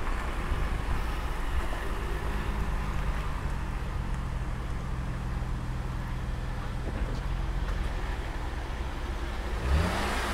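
Engine of a used $800 car that is leaking oil, running steadily at close range with a low rumble and a slight rise in revs near the end, no talking.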